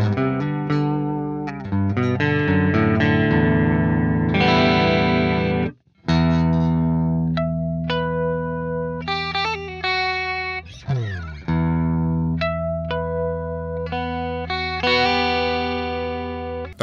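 Electric guitar played through the chorus effect of the Neural DSP Archetype Petrucci plugin, with bright treble and presence, sustained chords and melodic lines ringing loud and close, a brief gap near six seconds, no talk.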